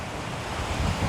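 Waves wash onto a beach at Kata, Karon or Patong in Phuket during monsoon season on a busy sunny day, a steady low surf roar mixed with wind buffeting the microphone, with no speech.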